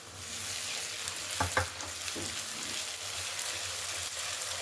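Onions frying with ginger-garlic paste in a pan give a steady, even sizzle, and a couple of brief stirring scrapes break through partway.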